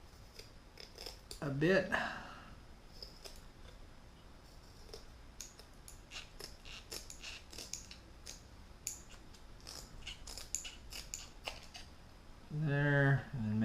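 Scissors snip a soft plastic tube lure tail, trimming it to a point, in a few quiet crisp clicks and cuts scattered through, while someone talks briefly at the start and end.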